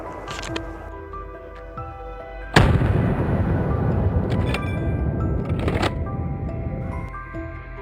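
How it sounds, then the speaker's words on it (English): Gunfire from hunters shooting at wild boars in a forest, a loud sudden blast that leaves a long, dense rumbling wash before cutting off, followed by faint crackles. "we knew it was time to open fire"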